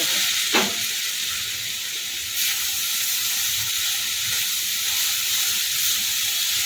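Veg momo filling being stirred in a hot pan with a little water added, giving a steady close sizzling hiss throughout with faint scraping underneath and a brief clink near the start.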